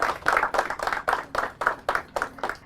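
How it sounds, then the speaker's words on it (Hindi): An audience claps in rhythm at a team quiz event, about a dozen loud, evenly spaced synchronized claps close by. "तालियां हो जाए उनके लिए।"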